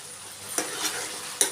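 A spoon scrapes through tindora and tomato curry in a hot pan, giving two or three quick, close stirring strokes over a soft background sizzle, with no talk.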